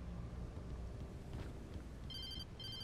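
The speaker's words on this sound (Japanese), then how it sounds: "あ、電話来た。" A phone rings in the video game Alan Wake, two short electronic ring bursts near the end, heard over a steady low rumble of ambient game sound.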